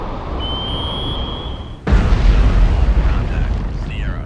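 Torpedo explosion destroying the Chinese submarine Chengdu in Cold Waters: a sudden deep, heavy boom that hits after a thin sonar-like tone, then rolls on as a long low rumble.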